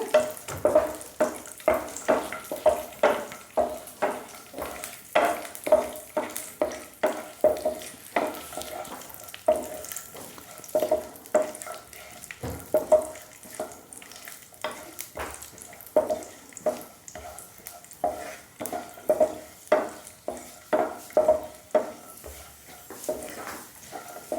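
Dry fruits roasting in a pan over low flame, with a light sizzle and regular rhythmic scrapes of a spoon stirring them, repeating steadily close up without talk.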